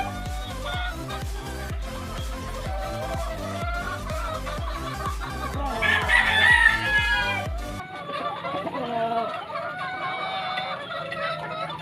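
A Golden Boy Sweater gamefowl broodstag crows loudly and clucks close by, repeated calls over a rhythmic low thumping beat. A quieter stretch of calling follows near the end.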